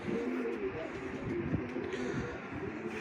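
Wild pigeons in a flock, cooing and stirring near a farm coop in the morning, a continuous low murmur of calls with wind-like rustle and a faint voice in the background.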